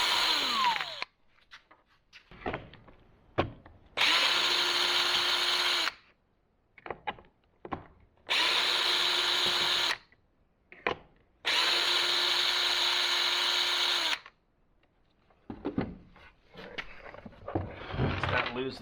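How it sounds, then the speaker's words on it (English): Power drill backing T15 Torx screws out of a backpack leaf blower cover in three sustained whirring bursts of a couple of seconds each, close up, separated by clicks and handling noises. "It's T15 screws here. So I'm just gonna go around and take these off so it uncovers."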